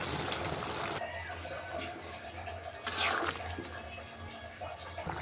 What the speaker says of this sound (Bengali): এখন আমি দিয়ে দেবো ঝোল কিছুটা পরিমাণ